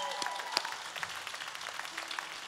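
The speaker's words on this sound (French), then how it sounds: "On les applaudit encore une fois" A gala concert audience applauds, scattered individual claps over a quieter crowd, fairly distant and light, sustained across a short stretch.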